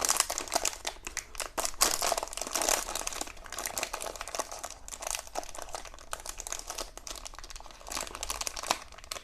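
Crinkly plastic wrapper of an Eti Popkek dark chocolate cake being torn and opened, a dense run of close, loud crackles and crumples lasting throughout with no talking.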